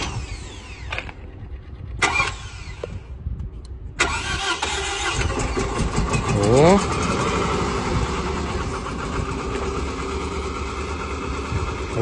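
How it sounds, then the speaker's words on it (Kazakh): A Toyota Estima left parked for three years gets cranked a few times with short starter bursts, then catches and settles into a rough, steady idle nearby. People talk over it. "3 жылдан бері тұрған көлік қазір өзімізге де қызық. Қыза ма, қызбай ма."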